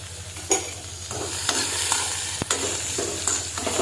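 Chopped onions fry in a pan and are stirred with a spoon, with regular scraping strokes roughly every half second over a constant low sizzle and a sharp knock partway through, close up.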